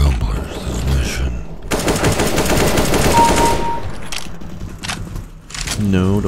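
Bursts of SMG gunfire in the video game CS:GO, a long rapid automatic volley in the middle with shorter shots around it, loud and close, mixed with game effects and a player's voice.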